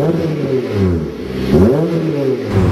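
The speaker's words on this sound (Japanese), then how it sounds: "無限 WR のマフラーすごいいい音してて" A Honda Civic FD2 fitted with a Mugen WR muffler revs its engine, the exhaust rising and falling in several loud, close blips over a few seconds.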